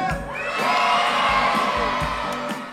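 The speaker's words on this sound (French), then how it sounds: "C'est face à une foule de primaires exaltée que ces 18 collégiens font une entrée digne de véritables rockstars" An excited crowd of primary school children cheers and shouts in a school setting, a loud, sustained burst of whoops and screams rising and holding for a few seconds.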